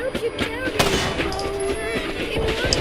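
Rapid video game gunfire fired through a wall angle, a string of sharp, close shots at an uneven, quick rhythm, with someone talking over them.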